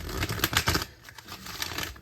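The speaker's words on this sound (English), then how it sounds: "So let me shuffle these." Tarot cards being shuffled, a quick run of soft papery riffles and flicks close by, heavier in the first second and then a lighter rustle, with no talking.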